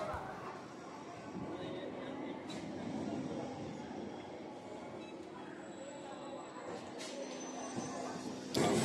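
A local train pulls out of Chinsurah station on the Howrah–Bandel line, a steady broadband rumble and rattle of wheels and carriages that holds at an even level throughout, with faint squeals and clanks above.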